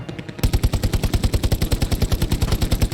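Rapid sustained machine gun burst from an MG in the Hell Let Loose World War II game, loud, close and evenly rhythmic, starting abruptly after a brief quiet moment and continuing to the end.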